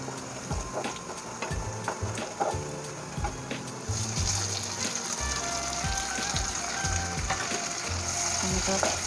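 One large tomato cooks in a hot pan for palak paneer, giving a soft, continuous sizzle with scattered light stirring clicks. The sizzle thickens and evens out toward the end, with no voices.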